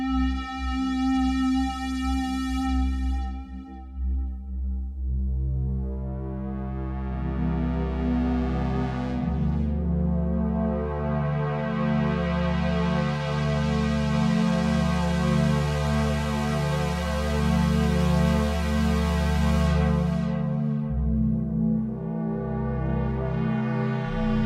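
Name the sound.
Omnisphere synth preset Analog OB square pad on MPC Live 3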